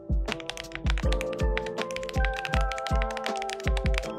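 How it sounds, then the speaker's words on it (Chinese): Rapid, steady keystrokes on a Command 65 custom mechanical keyboard fitted with WS lightning switches, each press a crisp close-up clack in an unbroken run with no talking. "没错，它就是 Command 65加闪电轴"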